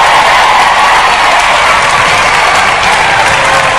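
Studio audience at a Robot Wars show applauds the winning robot Spikeosaurus: loud, dense, continuous applause and crowd noise filling the whole stretch, with no talk over it.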